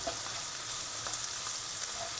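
Ground red pepper is stirred into tolma filling frying in a pan, giving a soft, steady sizzle with faint scraping stirs, quiet and close, with no voices.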